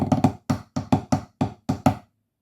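Snare drum from a marine pipe band solo, second section of 'Illawalla', struck in a steady sequence of about ten crisp accented hits and short rolls, close and clear with no voices.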